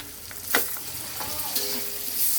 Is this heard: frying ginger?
yes